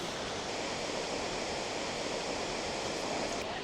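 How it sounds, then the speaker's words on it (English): Sekumpul Waterfall in North Bali roars as a dense, continuous rush of falling water, loud and steady throughout. "Sekumpul Waterfall itself is this one"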